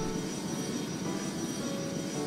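Airplane engine in the Extreme Landings Pro flight game drones steadily at a constant, moderate level, a continuous low hum with no talk over it.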